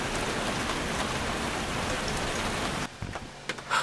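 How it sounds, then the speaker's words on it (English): Heavy rain pours down onto a boat and into its cockpit in a dense, steady roar, then eases suddenly into scattered drips and splashes near the end. "quite a bit of rain pouring into the cockpit at the moment"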